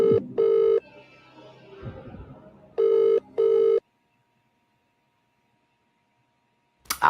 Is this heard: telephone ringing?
yes